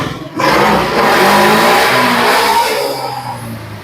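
A motorcycle engine is revved hard during a charging-system check: a close, loud rising roar held at high revs for a few seconds before easing back, with no talking.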